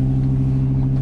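A 2008 Lamborghini Gallardo with a 5.0L V10, idling just after starting, heard as a loud, steady, deep engine rumble with a strong low drone and no talk.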